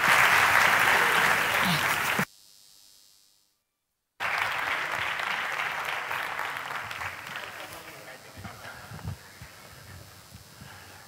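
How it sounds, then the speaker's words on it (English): Audience applause welcoming competing teams onstage at a cybersecurity championship event, loud and dense, broken by a roughly two-second silent gap, then resuming and gradually thinning out. "Let's welcome them with an applause."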